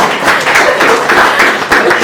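Brief scattered clapping from a small audience at a workplace talk, fairly close and steady for about two seconds, with faint murmuring mixed in.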